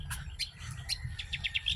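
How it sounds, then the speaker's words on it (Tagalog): Several birds chirp and tweet in short bright bursts during a morning walk in the Philippines, the calls repeating quickly over a steady low background rumble. "Chirpy, chirpy, tweet, tweet."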